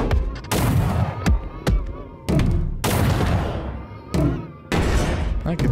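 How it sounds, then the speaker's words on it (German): Rapid bursts of gunfire in the video game Destructure Among Debris, aimed at a tower: loud, booming shots come in several dense clusters separated by short gaps, with sharp single cracks between them. "gezielte Schüsse auf den Turm"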